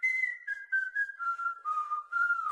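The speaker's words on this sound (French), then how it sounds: "Il se remet à siffler." Someone whistles a slow tune, a series of clear sustained notes gliding gradually downward, close and alone, ending with a sudden soft thump.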